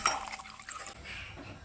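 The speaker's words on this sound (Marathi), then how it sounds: "आता त्याच्यामध्ये आपण गरम पाणी टाकू" Hot water poured into a pan of fried masala for a curry, giving a brief close splash and trickle with a bright liquid gurgle at the start, then a soft bubbling hiss as it settles.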